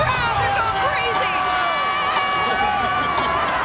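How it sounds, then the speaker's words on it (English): A huge New Year's Eve crowd in Times Square cheers and roars in a continuous loud wash, with whistles and shouts rising above the din throughout. "Listen to this crowd. They're going crazy."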